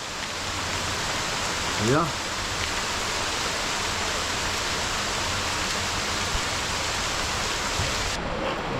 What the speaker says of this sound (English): The rain is falling like crazy.